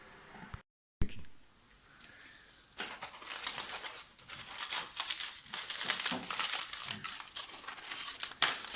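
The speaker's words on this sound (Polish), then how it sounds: "Rozpakujemy sobie, moi drodzy, to, bo to jest fajny prezent." A gift wrapped in paper and foil is torn open close by, with a brief silence, then bursts of loud crinkling and rustling that build and continue in irregular rips and crumples.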